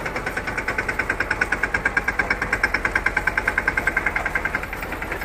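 A tractor engine runs steadily nearby, with an even, throbbing beat of regular pulses and a rough mechanical rumble, and no voices.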